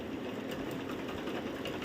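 A sewing machine stitches the first fold along the hem of a lungi, a steady mechanical whir with faint rapid needle ticks running unbroken at close range.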